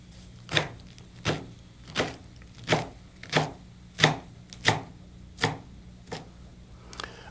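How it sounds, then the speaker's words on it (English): Sharp knife slicing leaves into thin strips on a board, about ten crisp, evenly spaced chops, close and clear with no talking. "slice these up into thin strips with our lovely sharp knife here"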